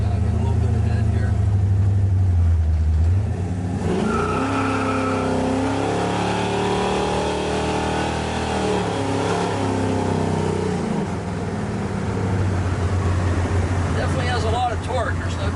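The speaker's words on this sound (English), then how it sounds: "You can see that the car just runs and drives the way it should." A 1969 Chevrolet Camaro Yenko-style car drives along, its V8 engine revving up and down with rising and falling tones, loud and close, while someone talks over it.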